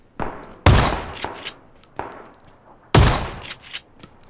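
Gunfire in the video game PUBG, two bursts of sharp close shots each followed by a few quicker, quieter cracks, with short gaps of quiet between them.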